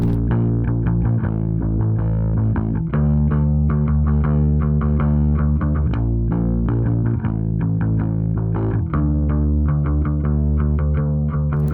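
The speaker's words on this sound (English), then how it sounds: "I can play our bass pattern with my real bass and it's going to sound like this." An electric bass plays a steady, repeating pattern of notes with a shimmering chorus effect. It is loud and close, with no voices.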